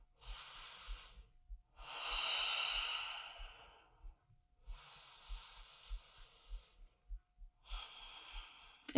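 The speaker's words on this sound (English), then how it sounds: "I'm just going to breathe" Slow, deep breaths during a hip and spinal mobility workout, each long airy inhale or exhale separated by quiet pauses. Faint rhythmic thumps pulse underneath, and the breathing is close and soft with no speech.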